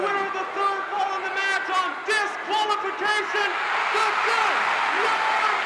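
The crowd at a 1982 wrestling arena cheers and applauds after the match, a steady roar of clapping and whoops with voices rising through it.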